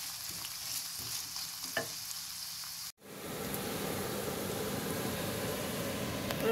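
Onions frying with salt and whole spices in a pan, a steady hiss with a few stirring clicks that briefly drops out, then returns as a louder, fuller, continuous sizzle.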